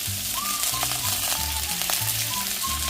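Pork neck searing in a hot, uncoated pan for ganjjajang, a dense continuous sizzle close up, with faint clatter in the background.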